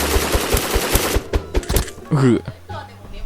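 An SL8 sniper rifle fires in the Block Post video game, with a fast run of sharp, loud shots for under two seconds, then a voice talking over the game.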